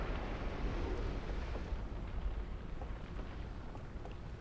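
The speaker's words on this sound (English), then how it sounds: "That sounded like thunder." Thunder in the video game Outer Wilds: Echoes of the Eye, a dense, sustained low rumble with a noisy, rain-like wash on top, loud and continuous without distinct cracks, with no voices over it.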